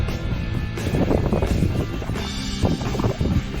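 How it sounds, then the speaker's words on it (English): Steady wind buffeting a microphone on the Col de Joux Plane climb, a broad low rumble with gusty swells that continues throughout, loud and close. "It's still pretty windy."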